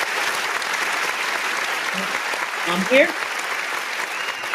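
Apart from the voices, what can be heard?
people clapping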